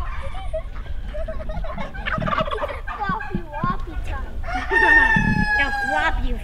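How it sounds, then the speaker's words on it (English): A turkey on a small farm with chickens, rabbits and quail gobbles loudly and close by in rattling bursts, with other fowl calling around it and a voice briefly in the background. "Beautiful turkey."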